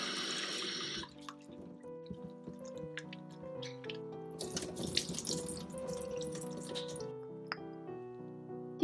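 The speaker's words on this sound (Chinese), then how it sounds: "蜜枣啦、南北杏都系用水洗一洗。" Candied dates and almonds rinsed under running tap water for a soup, a steady close trickle and splash with clinks and small knocks of handling, no voices.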